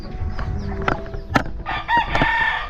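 A breeder rooster crows once, close and loud, its call rising and straining over a short burst amid faint farmyard clucking.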